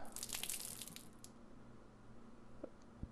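Water drains from an opened valve in the horror adventure game The Last Door, a faint rushing, splashing burst up front that thins into a quiet trickle, with a couple of soft knocks near the end.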